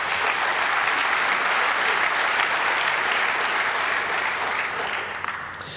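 Sustained applause from a conference audience at a hacker congress, dense steady clapping filling the whole stretch, fairly loud and even before easing slightly at the end.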